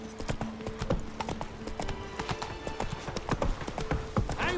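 A horse gallops in The Witcher 3, its rapid, rhythmic hoofbeats loud and close and running throughout, with faint background game sounds.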